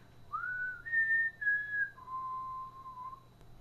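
A person whistles the four-note Hunger Games tune, clear and close: rising, holding, then dropping to a long low final note, with no one talking.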